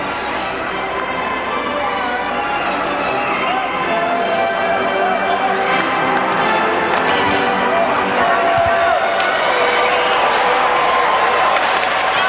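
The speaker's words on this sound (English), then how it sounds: "A nice cheer." A crowd at a high school hockey game cheers and claps steadily, a broad wash of noise that stays loud throughout, with a voice talking over it.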